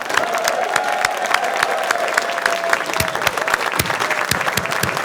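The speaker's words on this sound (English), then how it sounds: "one big hurrah and round of applause for today's new citizens." Crowd at a naturalization ceremony in a community center applauds new citizens, a lively sustained clapping with sharp individual claps and some cheering mixed in.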